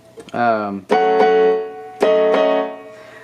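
Piano playing the alternate ending of a bridge progression in a pop song, three struck chords that ring and sustain, each decaying before the next, close and clear.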